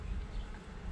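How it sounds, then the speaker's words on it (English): Honey bees swarm and buzz at the entrance of a hive fitted with an entrance reducer, a loud, steady, close hum with no break for the whole short moment. "They're buzzing loud."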